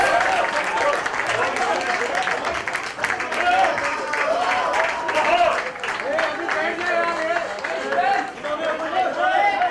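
Audience applause at a book release event for a Dara Singh biography, steady clapping from a crowd blended with chatter and voices talking throughout.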